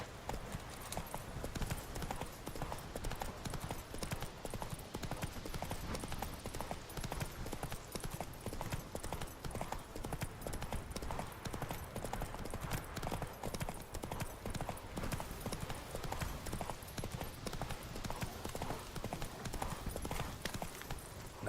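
In The Witcher 3, the horse Roach gallops with a fast, steady clip-clop of hooves that continues throughout, close and fairly loud, amid game ambience.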